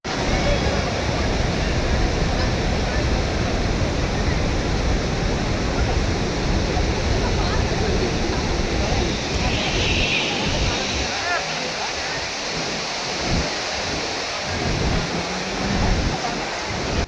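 Athirappilly waterfall in Kerala pouring down heavily, a loud, steady roar of falling water heard from below that continues throughout with no pauses.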